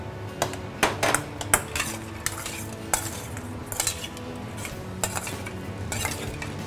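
Corvina ceviche being stirred with lime juice in a bowl, a spoon clinking and scraping against the sides in quick irregular taps, close and fairly bright, with a faint background hum.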